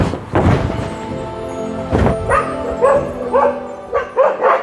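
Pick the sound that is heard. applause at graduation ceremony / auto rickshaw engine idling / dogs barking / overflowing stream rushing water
dogs barking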